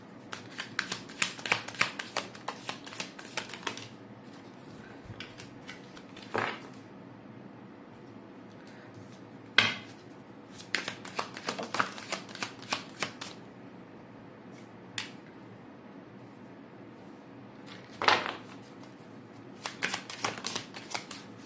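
Tarot cards are shuffled and drawn by hand in a quiet room, giving brisk riffling bursts separated by pauses and occasional sharp card snaps, close and moderately loud.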